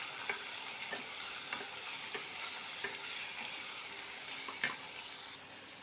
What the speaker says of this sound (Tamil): அப்புறம் வேக வச்சிருக்கிற நெல்லிக்காவை அதில் கொட்டணும். இதெல்லாம் நல்லா கலரணும்.